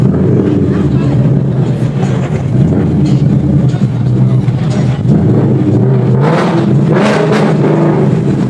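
A GTR at a car meet revs hard over a constant loud engine roar, with sharper bursts of revving near the end and voices mixed in the background.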